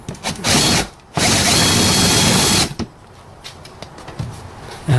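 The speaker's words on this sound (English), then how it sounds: "I'm just using a drill to get those rivets" A power drill bores out rivets holding a cover onto a Volvo bumper, two loud sustained bursts of whirring with a short pause between, followed by quieter handling and scraping.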